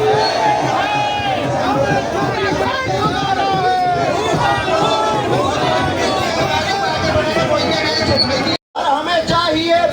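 A large crowd of protesters at a land-law demonstration in Haldwani, Uttarakhand: a loud, dense mass of overlapping voices, raised and shouting close by, continuous throughout with a momentary dropout near the end.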